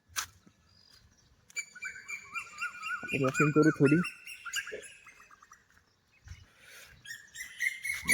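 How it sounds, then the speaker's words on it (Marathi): Birdsong at dawn on a morning walk outdoors: repeated high chirps and whistles run through most of the clip, with someone briefly talking under the calls and a few louder rustling or handling noises in the middle. "पक्ष्यांचा आवाज बघा"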